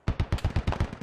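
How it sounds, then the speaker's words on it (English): A G3 rifle fires in a first-person shooter video game, a close burst of about nine rapid, evenly spaced heavy shots lasting about a second. "Sounds like a G3."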